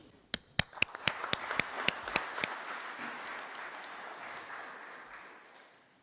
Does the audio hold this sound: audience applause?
yes